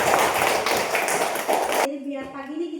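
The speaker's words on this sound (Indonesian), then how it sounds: "tepuk tangan untuk kelas 4." A Class 4 primary-school group in a classroom clapping together, a loud, close burst of hand claps that stops abruptly and gives way to a voice.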